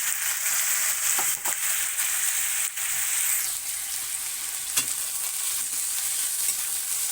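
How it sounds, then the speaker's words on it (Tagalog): Chicken pieces for a chicken curry sizzle and sauté in a hot pan, a steady loud frying hiss with a few brief stirring scrapes and clacks. "igigisa natin yung chicken natin"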